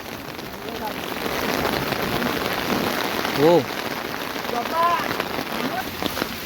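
Steady rain pours outdoors at night in the Konkan countryside, a dense continuous hiss filling the scene, with brief voices and a few chirping calls rising over it.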